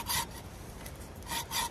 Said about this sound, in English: I'm just sawing down, making a stop cut.